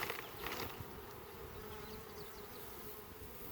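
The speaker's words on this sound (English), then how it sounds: "What we want to do is shake this frame of bees off" A dense, steady buzzing of many honey bees fills the air, loud and continuous, with a brief rustling thump near the start as bees are shaken off a hive frame.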